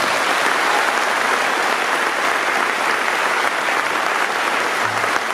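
A graduation ceremony audience applauds the graduating high school students, a dense and steady wall of clapping that stays loud and unbroken for several seconds.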